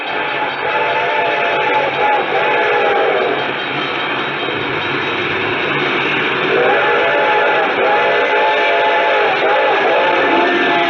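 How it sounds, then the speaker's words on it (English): A train's ringing bell and wailing whistle sound in a suspense radio drama, the whistle's sustained tones rising twice over a steady rumbling rail noise that fills the whole stretch. "I could hear its bell ringing and the cry of its whistle"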